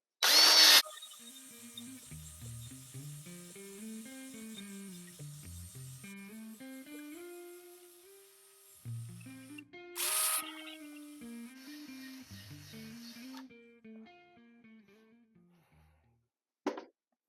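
A drill spins a hone in and out of the chamber of a Browning BPS 10-gauge shotgun at high RPM. A whirring motor rises and falls in pitch, with a couple of sharp scraping bursts and no talk.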